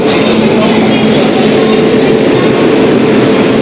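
A steady, loud rumble of a train running close by, continuous throughout with a broad roaring noise and no clear pauses.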